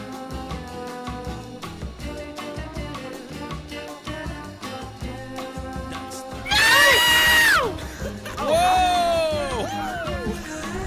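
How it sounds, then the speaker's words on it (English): A scream alert sound effect plays during a live stream, a loud shrill scream that cuts over background music and talk, followed by a second wavering cry. "Who played that scream alert?"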